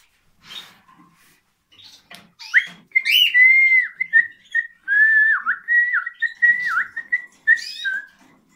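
A person whistles a wavering, bird-like tune to a male cockatiel in short phrases, clear and close, with a few soft clicks and rustles before the whistling begins.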